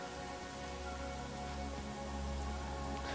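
Heavy rain in the Pathfinder Kingmaker video game, a steady dense hiss of falling drops with a faint low hum beneath, continuous and fairly quiet with no talk.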